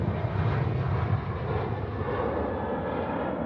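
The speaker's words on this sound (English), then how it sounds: "737 there, 569 service departing to Perth." A Velocity Boeing 737 jet departing Sydney Airport at night for Perth, its engines giving a broad, steady roaring rumble heard from a distance, sustained and slowly fading in the higher range, with no voices over it.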